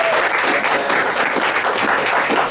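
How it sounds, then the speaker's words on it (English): Sustained audience applause at a Startup Weekend pitch event in Tampa, many hands clapping in a dense, even roar that holds steady and loud from start to finish. "We never tire of clapping at Startup Weekend."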